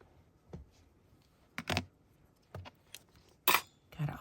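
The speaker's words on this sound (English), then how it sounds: "Gotta always close those scissors up" Scissors on a crafting desk being handled and snapped shut, several separate sharp metallic clicks and clinks spaced a second or so apart, close and quiet against a still room.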